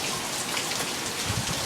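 Steady rain pours down outdoors, a dense, even hiss of drops striking surfaces that stays close and constant with no voices over it.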